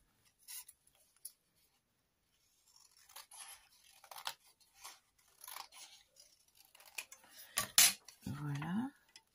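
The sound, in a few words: cutting a rigid backing piece for an envelope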